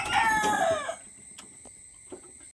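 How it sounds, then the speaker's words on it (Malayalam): One loud, close crow from a native country rooster rings out for about a second, then fades into near quiet. "ഇവിടെ പൂവൻ കോഴി, നാടൻ പൂവൻ കോഴി"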